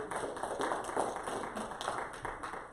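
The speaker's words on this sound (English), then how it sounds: "I didn't do that so you would clap" Congregation applauding a pastor's wife during a Sunday church service, a steady wash of many hands clapping at close range with no talk over it.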